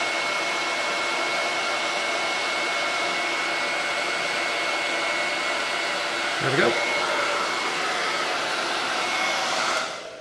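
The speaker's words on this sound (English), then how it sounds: "So, hair dryer, I have to say, I really like." A hair dryer blows hot air steadily onto a reclaimed cupboard door to soften a flexible wood product. The loud, even whir runs almost the full length and cuts off at the end, with one brief voice partway through.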